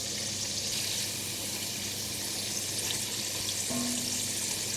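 Potato and onion pakoras fry in hot oil with a constant bright sizzle, a dense even crackle holding steady throughout without speech.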